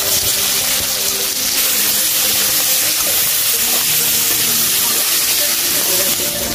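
Chopped onion hitting hot oil in a pan while cooking aloo soyabean sabji, a loud, steady, close sizzle and hiss that holds unbroken throughout.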